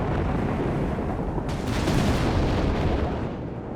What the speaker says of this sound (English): We got artillery strike here from Janko.